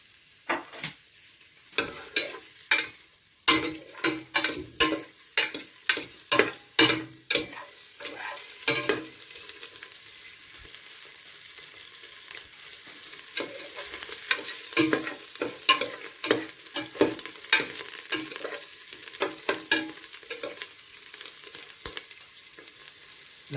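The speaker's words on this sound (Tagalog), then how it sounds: "ilalagay ko muna guys yung ating sibuyas. Yan. Igisa lang natin." Onions sizzle in a hot frying pan as they are sautéed, with a steady frying hiss and repeated close scraping strokes of a spoon stirring them; no talking.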